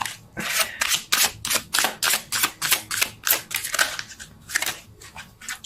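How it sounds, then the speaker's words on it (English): Tarot cards are shuffled in quick repeated riffles, a rhythmic series of crisp papery flutters close to the microphone with no talking. "Let's see if I can shuffle"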